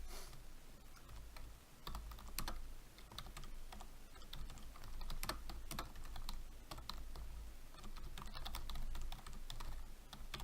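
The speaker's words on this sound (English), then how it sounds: "I'm just going to type out some code here" Code is typed on a computer keyboard in quick, uneven bursts of light clicking keystrokes, with occasional louder key taps over a low background hum, fairly quiet and with no one speaking.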